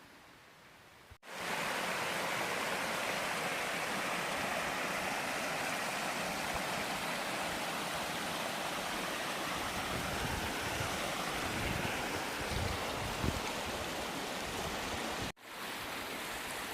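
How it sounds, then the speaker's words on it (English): A stream running through a green forest, a steady broadband rush of flowing water that starts abruptly and holds even and full for most of the span, close and unbroken by voices. "the sound of a nice stream running by"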